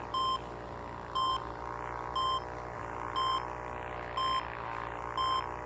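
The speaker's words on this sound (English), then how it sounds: "What is this beeping about?" Warning beeps in the VR flight game Ultrawings, a steady series of evenly spaced electronic tones repeating about once a second over a continuous engine-like drone, clear and prominent.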